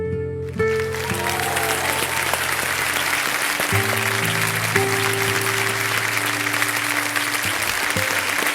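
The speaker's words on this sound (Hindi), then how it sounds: "ये ताली आपके लिए बजाए जा रहे हैं" A large stage audience applauds steadily throughout, dense sustained clapping beneath loud sustained background music tones.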